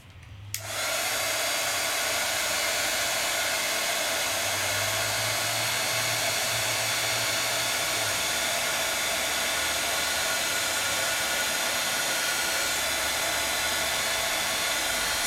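A heat tool blowing hot air to melt embossing powder, a loud steady whooshing fan roar that starts abruptly after a short quiet moment and runs without a break to the end.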